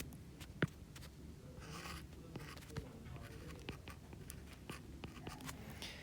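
Pen or marker strokes scratch quietly on a writing surface as an angle is drawn during a polar coordinates lesson, with short, light squeaks and taps close by.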